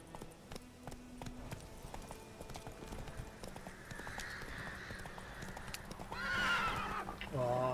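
Horse galloping in The Witcher 3, rapid clip-clop hoofbeats throughout, rising toward the end with a couple of whinnies, while someone talks over it.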